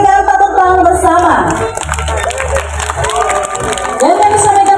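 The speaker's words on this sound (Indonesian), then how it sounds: "Kita berikan tepuk tangan bersama" An audience at an elephant show at Taman Safari Prigen in Pasuruan breaks into loud applause and cheering, a dense crowd clapping mixed with a prominent amplified voice and music throughout.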